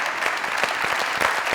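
Loud, steady applause from a studio audience at a Pakistani comedy show taping, dense clapping filling a short burst with no talk over it.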